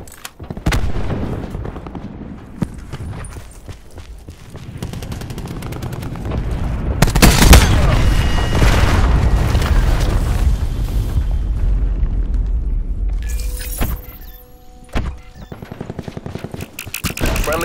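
Cluster grenade explosions in Call of Duty: Black Ops 4 amid gunfire, scattered shots and pops giving way to a long, loud rolling burst of chained blasts, then quieter shots and game sounds.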